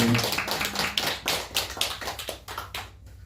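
Church congregation giving a short round of clapping, a modest scattered patter of hands that thins out and stops after about three seconds, heard up close in a quiet room.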